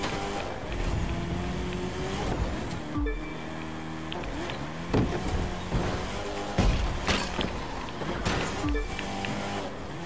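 A Mazda RX-7 (FD) drifting around a Detroit street circuit in The Crew 2, its engine revving up and down in repeated loud surges with gear changes and bursts of tire squeal, close and continuous.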